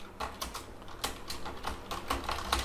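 Rapid, irregular clicking of keys on a computer keyboard, close and steady with no voices.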